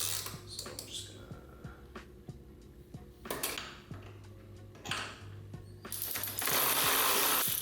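Twelve-millimetre bolts are worked off a motorcycle swing arm with a ratchet, giving quick repeated clicks and metallic clinks, a steady low hum underneath and scattered rustling bursts, fairly quiet and close.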